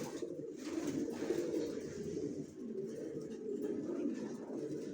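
Racing pigeons coo in a loft, a dense steady murmur of many low throaty calls overlapping continuously at close range, with no talk.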